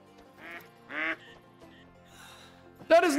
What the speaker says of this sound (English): Green-winged teal.